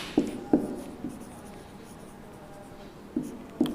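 Pen or chalk writing out a maths theorem, a handful of sharp taps and strokes spaced irregularly, close by, with a quiet stretch between them.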